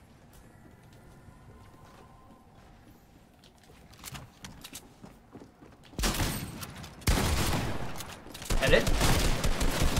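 Gunfire in Fortnite as a player shoots open her own build, loud bursts of shots over the second half after a quieter stretch, with talk in the background.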